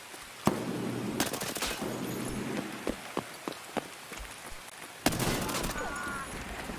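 Scattered sharp reports from an SVD rifle in the shooter game Escape from Tarkov, a few single cracks and short bursts, one loud close shot near the start and another later, over a noisy rain-like background.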